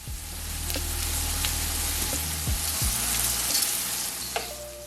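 Salmon sears in a frying pan beside shrimp, giving a steady close sizzle and spatter, with a few low clunks and knocks of pan handling scattered through.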